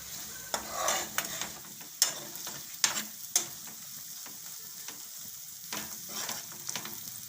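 Grated green turmeric roasts in ghee in a steel pan, giving a soft sizzle under repeated sharp scrapes and taps of a stirring spoon at an uneven rhythm.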